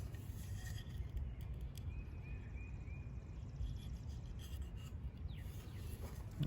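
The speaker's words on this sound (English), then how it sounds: "Smooth that piece of oak up pretty good." A piece of oak is rubbed and smoothed by hand with a steady, faint rasping scrape close by, with no voices.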